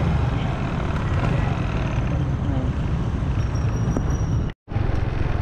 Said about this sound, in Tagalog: Medyo maingay yung motor natin kasi iba yung gamit nating motor.